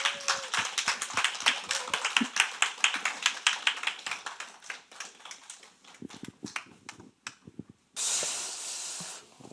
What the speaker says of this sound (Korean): 엄청난 큰 박수를 쳐주셔서 감사합니다.